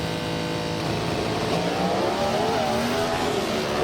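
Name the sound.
drag racing cars launching and accelerating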